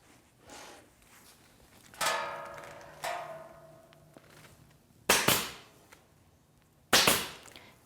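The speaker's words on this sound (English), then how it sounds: "I'll get a staple in over here to hold it." A staple gun fires into a rug being fastened to an ottoman corner, giving about four sharp, close snaps spread out over several seconds, with quiet handling noise in between.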